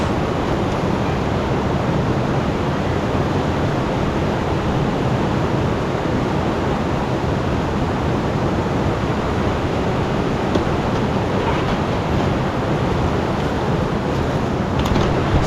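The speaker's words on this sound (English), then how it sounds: "that river is really loud" A loud river rushes close by at a gold prospecting claim, a steady, dense broadband roar of flowing water that holds constant throughout with no pauses.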